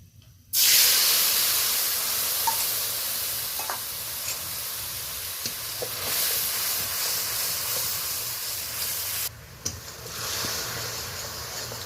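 Ground spice paste hits hot oil with whole-spice tempering for a doi potol curry, setting off a loud, close, continuous sizzle that fills the pan and dips briefly before resuming.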